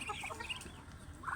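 Chickens clucking at feeding time in a backyard, a quick cluster of soft nasal clucks and short calls up close, faint and continuous with no talk.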